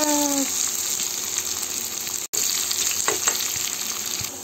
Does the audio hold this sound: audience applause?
no